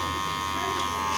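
Electric hair clippers with a 1 guard buzz steadily and close while blending a beard, a continuous motor hum with a voice speaking over it.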